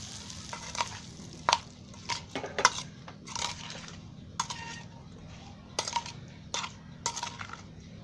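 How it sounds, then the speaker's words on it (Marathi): Hot oil tempering is poured into an instant mango pickle and stirred, giving soft sizzling with scattered spoon clinks and scrapes against the container, fairly quiet and close, with no talk. "आता तेलाची फोडणी केली आहे, ते आता याच्यामध्ये ओतते आणि मिक्स करते"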